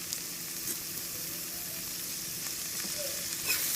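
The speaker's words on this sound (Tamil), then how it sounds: "வெங்காயம் ஓரளவு நல்லா வதங்கிடுச்சு" Onions frying with turmeric powder and coriander for a banana flower poriyal give a soft, steady sizzle and crackle in the pan, faint and uninterrupted, with no one talking.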